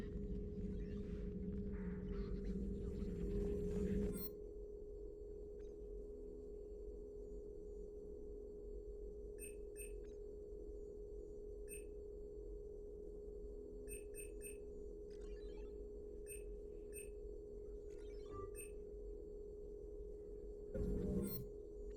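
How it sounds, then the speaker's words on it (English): Private message terminal in Mass Effect 3 sounding notification tones: short, faint electronic blips repeating at irregular intervals over a steady low hum, with a louder swell at the start and near the end. "A new notification is available on the private messages terminal."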